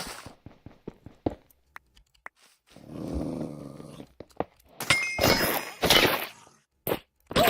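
Dogs growling and fighting in Minecraft, with a run of short sharp clicks and clangs followed by a rough snarling burst and then loud overlapping scuffling growls and yelps, close and busy.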